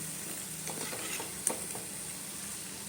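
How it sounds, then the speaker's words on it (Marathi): Taro leaf fritters fry in a pan with a soft, even sizzle, and a single clink of stirring cuts through it. "अळूची भाजी तशी शिजत आहे"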